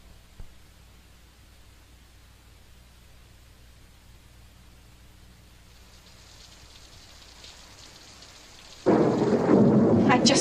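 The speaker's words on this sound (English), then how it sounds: "How can it rain in Florida in the middle of the season?" Thunder and rain in Florida, a low, distant rumble and soft steady hiss that abruptly turns into a loud, close downpour near the end.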